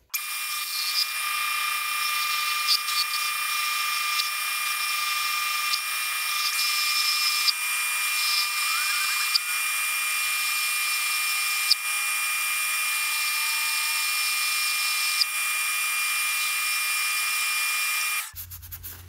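A lathe turns a taper into steel with a carbide cutting tool while making an automatic center punch, giving a steady, thin high-pitched hiss and whine with faint periodic ticks, continuous and close for about eighteen seconds before stopping abruptly.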